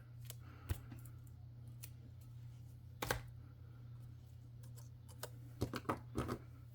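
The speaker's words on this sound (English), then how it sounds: "sometimes that's all you just need is a pair of scissors" Quiet room with a low hum, broken by scattered sharp snips of scissors cutting paper, a few isolated and a quick cluster near the end.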